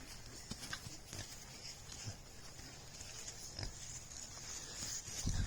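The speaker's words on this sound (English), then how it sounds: "Look at little baby pigs." Baby pigs on a farm give soft, scattered grunts and snuffles outdoors, along with occasional knocks and clops of hooves on rough ground. The sound is fairly faint, with no talking.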